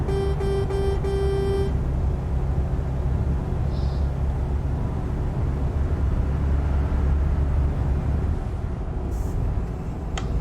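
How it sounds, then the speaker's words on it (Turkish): A loud Mercedes Travego 16 SHD bus horn in Euro Truck Simulator 2 blares for under two seconds over a constant heavy engine drone, after which only the steady rumbling engine continues. "Tek şu korna var."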